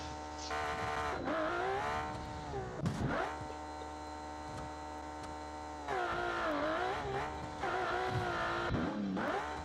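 A 2000hp drag car with a 6.2-litre methanol double overhead cam inline-six, simulated in the Automation game, revs and accelerates hard, its loud engine note rising and falling through several surges with brief drops between them.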